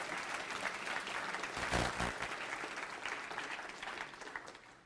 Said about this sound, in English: so we should clap for him